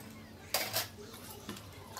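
A copper water pot being washed with turmeric water for pooja vessel cleaning gives faint metallic clanks and scrapes: two quick knocks close together, then a softer one a moment later.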